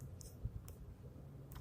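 Faint clicks of typing on a computer keyboard, a few soft scattered keystrokes in a quiet room.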